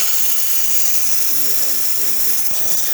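An espresso machine's steam wand hisses steadily, a dense and loud continuous rush filling the whole clip, with faint mechanical tones showing under it.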